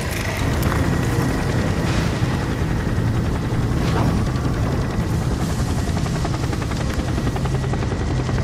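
A police helicopter flies close overhead in the video game Gotham Knights, its rotor chop loud and continuous, with occasional bangs and impacts layered over the steady thrum.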